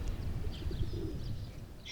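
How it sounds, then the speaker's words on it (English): Pigeons coo softly somewhere nearby, low murmuring calls blended into a quiet, rumbling outdoor background, with a few faint chirps above. "The pigeons make that sort of like cooing sound."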